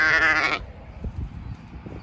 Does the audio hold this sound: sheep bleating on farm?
yes